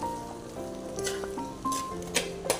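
Fish pickle being stirred in a pan, a soft steady sizzle with scraping strokes and a few small clinks near the end, close and fairly quiet.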